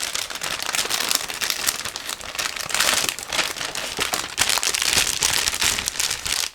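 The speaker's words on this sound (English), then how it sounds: "I'm going to open this next plastic bag with two sprues" Plastic bag holding Zvezda 1/48 Mi-24P model kit sprues being torn open and handled, a steady close crinkling and crackling of thin plastic running throughout without pause.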